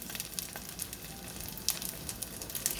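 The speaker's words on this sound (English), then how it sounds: "All right, just going to let that saute a little bit." Chicken sautéing in a pan for chicken Alfredo, a soft continuous sizzle with faint crackles and occasional light pops, fairly quiet and without talk.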